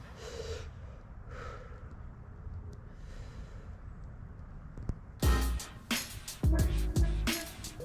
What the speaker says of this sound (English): I guess if you just hyperventilate before you do your breath hold, you'll be able to have more oxygen